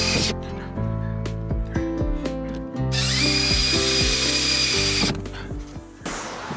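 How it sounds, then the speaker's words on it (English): A power drill bores holes into the four inside corners of a box while fitting a max air fan in a 2022 Ford Transit Crew Van, with loud, continuous whirring that rises and falls in pitch over several bursts. "Then I proceed to drill the holes on the four corners on the inside part of the box."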